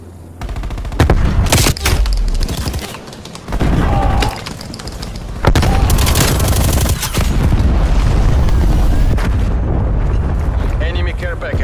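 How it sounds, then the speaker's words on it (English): Grenade blast amid a Call of Duty match on Nuketown, loud sharp explosive bursts and gunfire fusillades in several bands, with radio-style voice callouts over the battle noise. "Throwing grenade."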